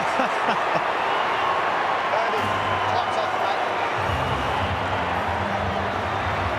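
A stadium crowd at a rugby league local derby between the North Queensland Cowboys and Brisbane Broncos roars in a broad, continuous wash of noise, with a commentator talking over it.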